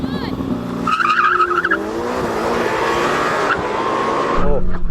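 Lamborghini Temerario and Ferrari SF90 launch side by side in a drag race; loud engines rise in pitch with brief tire squeal at the start, then a sustained roaring pull, close and intense, while a voice speaks near the beginning.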